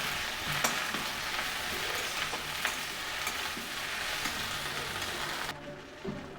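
Okra stirred into fried onions in a pan over a low gas flame, giving a steady close sizzle broken by occasional scrapes and taps of the spoon. The sizzle drops away near the end.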